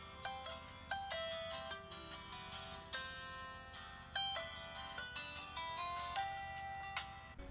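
An Oppo N1 phone ringtone plays a bright, repeating melodic jingle of short chiming notes, clear and unaccompanied, looping for several seconds.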